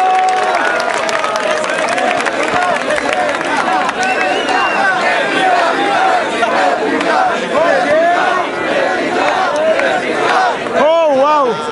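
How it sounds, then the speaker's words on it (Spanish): A rap battle crowd in Concepción erupts into loud applause and cheering, with shouts and whoops rising over sustained clapping close to the microphone. "fuerte el aplauso, Concepción!"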